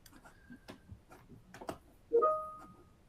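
Mouse clicks on a computer during a live video call demo, a few faint, sharp ticks spaced irregularly over quiet background, then a brief louder tonal chime.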